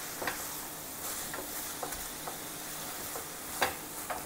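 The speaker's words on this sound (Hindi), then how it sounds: "और अब इसको घी डालकर थोड़ा सा भून लेंगे।" Coconut barfi mixture roasting in a spoonful of ghee in a pan for sweet-making, a steady low sizzle broken by occasional light stirring scrapes and clicks, close and fairly quiet with no talking.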